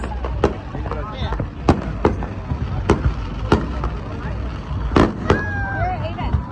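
Fourth of July fireworks pop and crack repeatedly, sharp bursts at irregular intervals at moderate distance, with whistling rockets and people's voices in the background.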